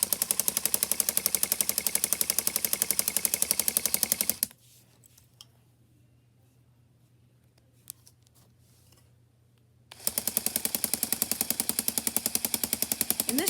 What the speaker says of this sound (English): It still has a 10-to-1 gear ratio, but this time it's on 2 pumps.